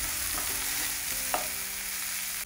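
Vegetables stir-frying in a pan for chowmein-style Maggi noodles, a steady close sizzle with a few soft scraping stirs and no talk.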